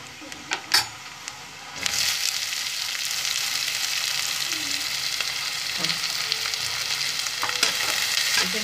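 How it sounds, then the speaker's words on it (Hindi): Onions sautéing in a pan with cumin and ginger for a potato curry: a few sharp knocks open, then a broad steady sizzle fills the rest, with occasional light stirring clinks, close and without talk. "इसे मुझे 4 से 5 मिनट के लिए भूनना है, जो प्याज हमारे अच्छे से गल जाए"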